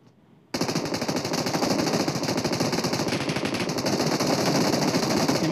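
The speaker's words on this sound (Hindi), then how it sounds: "गोलियाँ चलते चलते रुक ही ना रही हैं" Sustained automatic gunfire from PUBG Mobile, a custom-room match, rattles loud and close in a dense, unbroken stream of rapid shots after a brief quiet start, with no talk.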